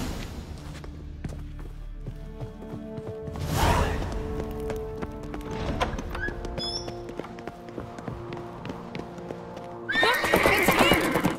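Horses clip-clop in quick running hoofbeats in The Witcher 3: Wild Hunt, with a loud whinny midway and another burst of neighing and galloping near the end.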